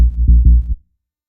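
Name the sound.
synth sub bass from sine and triangle waves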